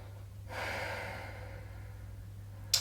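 Slow, steady breath during a mat Pilates stretch, a soft airy exhale that swells and holds for about two seconds over a quiet room, with no talking.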